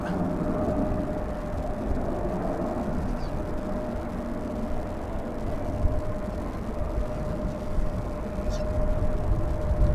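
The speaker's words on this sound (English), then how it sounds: "It's another little jet." A small jet aircraft passes at DFW Airport, a steady, broad engine roar with a faint high whine, held at moderate loudness throughout the ten seconds with no talk over it.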